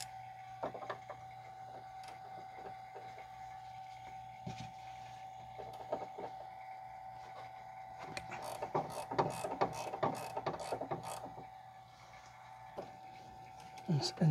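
Ratchet wrench cracking loose a stabilizer link nut on a 2009 Pontiac Vibe AWD 2.4, a burst of rapid close clicks under a steady background hum, with someone speaking nearby.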